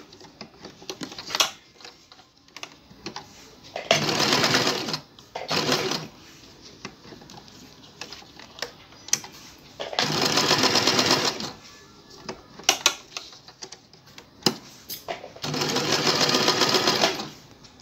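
Sewing machine stitching elastic into the waistband casing of bloomer shorts, running in three loud sustained bursts with quieter handling clicks and pauses between them.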